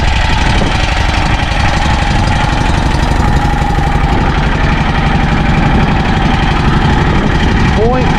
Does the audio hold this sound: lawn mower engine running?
yes